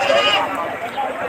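A goat bleats loudly and close at a livestock and cattle market in Padre Garcia, Batangas, one short wavering call with background noise and voices.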